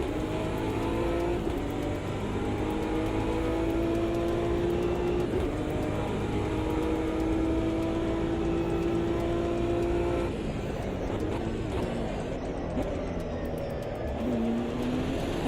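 A BMW race car engine in Automobilista 2 at Sebring, roaring loud and continuously with rising revs and stepped gear changes, no voices over it.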